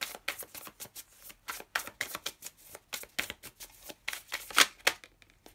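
Tarot cards shuffled and handled by hand, a close run of crisp riffling bursts and flicks coming in quick uneven pulses over several seconds.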